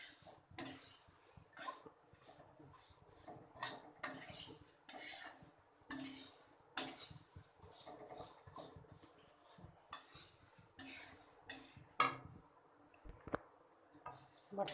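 Flattened rice (chuda) is fried and stirred in a pan with a utensil, giving faint, irregular scraping and clinking strokes that come in quick bursts throughout, with no talk.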